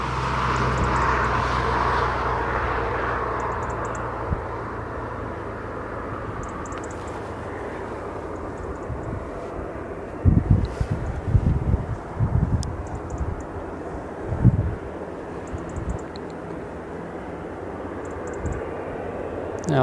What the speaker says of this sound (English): Now I can hear a helicopter, but I think it's on the ground